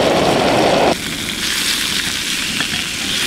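Grouse meat searing in an oiled pan outdoors, giving a loud, steady sizzle that drops slightly in intensity partway through and then keeps frying evenly.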